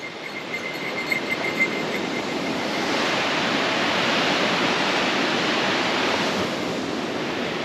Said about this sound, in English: we are right above the Fraser River.